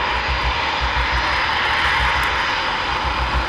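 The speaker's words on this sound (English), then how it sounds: "3 Squadron Typhoons about to launch" Eurofighter Typhoon jets of 3 Squadron launching at night from an RAF air base, a loud, steady roar of jet engines filling the whole span with a rumbling low throb and broad hiss, no talk over it.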